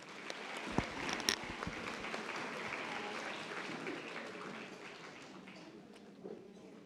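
Steady applause fills a hall for nursing graduates at a spring convocation, a dense even wash of clapping from a large crowd heard from a distance, with a couple of sharper nearby claps early on.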